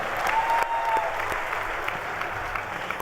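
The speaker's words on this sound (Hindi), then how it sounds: "जोरदार तालियों से उनका स्वागत" An audience at the Shri Kalki Mahotsav 2014 festival breaks into dense, continuous applause to welcome a guest. The clapping stays steady and full for the whole short stretch.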